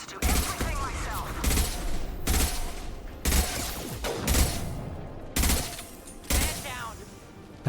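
Gunfire from the video game Mass Effect 2 erupts in repeated sharp bursts, roughly six loud volleys spaced about a second apart, with a voice talking faintly between the shots.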